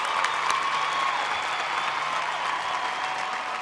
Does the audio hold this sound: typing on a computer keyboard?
no